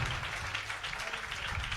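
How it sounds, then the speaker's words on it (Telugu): Church congregation applauding for Jesus, a brief wash of dense, fairly quiet clapping from many hands, steady throughout. "Clap for Jesus."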